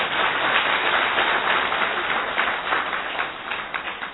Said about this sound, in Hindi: आप खुद के लिए फिर से ताली बजाओ